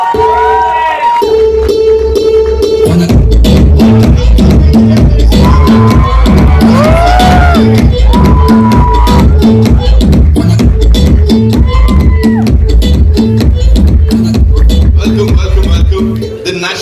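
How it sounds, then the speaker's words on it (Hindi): Loud, dense crowd cheering and shouting at a film trailer launch event, a sustained roar with whoops that stays at full level throughout and rises after a brief quieter opening. "ताली बजाने को कहा था,"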